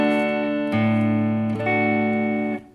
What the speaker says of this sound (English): So one bar of D sounds like this.